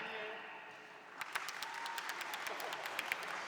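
Murmur of a crowd gives way to a burst of scattered applause, many hands clapping at a moderate distance, at a MINECON 2015 convention panel.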